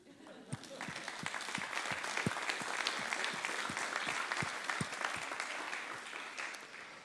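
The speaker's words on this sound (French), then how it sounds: "Applaudissons vous" An audience of more than a hundred people at a conference applauds themselves, with loud, sustained clapping from the whole room for about seven seconds and a few voices mixed into the crowd.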